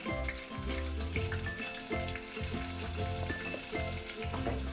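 Turmeric fries in a hot pan for ridge gourd curd chutney, giving a steady, close crackling sizzle with no talk.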